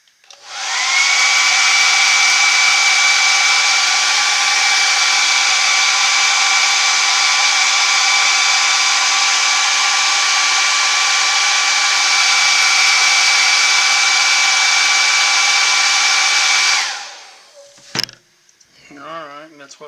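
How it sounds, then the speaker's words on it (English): A hair dryer blows loudly and steadily with a high whine for about seventeen seconds while drying paint on a wood-carved bear, then cuts off, followed by brief clicks and rustling. "Okay, hair dryer one time."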